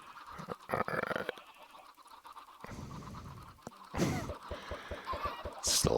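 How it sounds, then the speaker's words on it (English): Minecraft chickens in a survival world giving short scattered clucks and squawks in bursts, with scratchy blips and game noises between them, fairly close and moderately loud. "Still a lot of chickens. It's messing with the audio."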